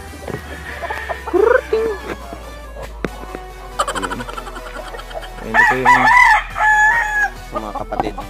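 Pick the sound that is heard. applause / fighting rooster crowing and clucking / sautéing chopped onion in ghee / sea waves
fighting rooster crowing and clucking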